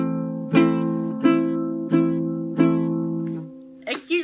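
Four slow chords strummed on a baritone ukulele, each ringing out and decaying before the next, alone and close, with a short softer brush of strings at the end.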